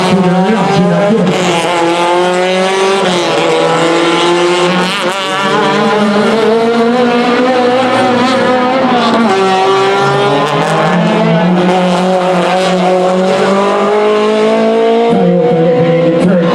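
Race cars, including a Toyota and a Mitsubishi, lap at a King of Shores race meet, with a loud, continuous engine drone whose pitch rises and falls as the cars pass and shift gears.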